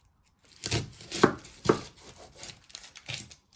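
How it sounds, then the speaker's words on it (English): A knife chops the ends off an onion on a cutting board, a few quiet, distinct thuds spaced about half a second apart with light rustling between them. "You first chop the ends off."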